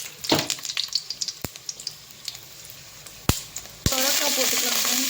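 Mustard seeds and dried red chillies sizzling in hot oil, with scattered crackling pops and spits over a steady faint hiss, a few sharp louder bursts near the end, close and fairly quiet.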